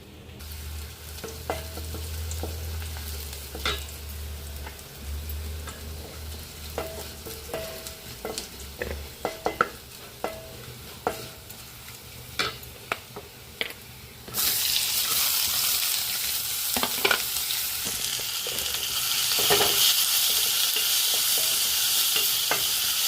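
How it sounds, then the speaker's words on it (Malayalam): Shallots and curry leaves fry in coconut oil while a spoon scrapes and taps the pan in sharp, irregular strokes, then sliced onion goes in and a louder, steady sizzle takes over under continued stirring. "രണ്ട് ചെറിയുള്ളി കറിവേപ്പില ഒരു ടേബിൾ സ്പൂൺ വെളിച്ചെണ്ണ ഒഴിച്ച് കൊടുത്തിട്ടുണ്ട്"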